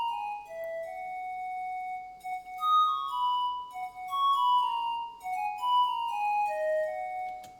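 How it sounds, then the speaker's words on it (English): A breathy flute melody glides between sustained notes over a soft afrobeats groove, clear and upfront with short pauses between phrases. "So that was why I played this flute to keep it going."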